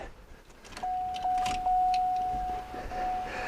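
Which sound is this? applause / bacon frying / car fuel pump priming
car fuel pump priming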